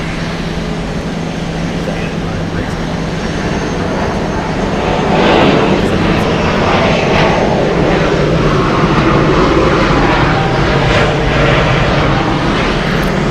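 A fixed-wing airplane passes at Atlanta Hartsfield-Jackson International Airport, a loud broad jet engine roar that swells midway and holds steady, with a person talking over it.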